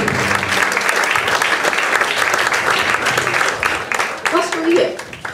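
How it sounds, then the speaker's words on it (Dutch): Dense, loud applause from a carnival sitting audience fills the hall, fading slightly near the end as a voice speaks over it. "Dus dan zeg ik deze een hartelijk applaus"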